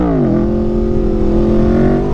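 Aprilia Tuono 1100RR motorcycle engine revving for a wheelie, a loud close sustained drone whose pitch drops briefly then holds steady and slowly climbs, no voices.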